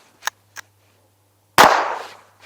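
A Rex Selentium MG22 .22LR pistol fires Aguila ammunition: one sharp, loud report with a trailing echo, preceded by two faint clicks.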